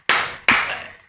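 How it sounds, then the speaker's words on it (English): Two sharp, loud bursts of clapping, each decaying quickly, like a brief round of applause cut short, close by with no voices over it. "Round of applause."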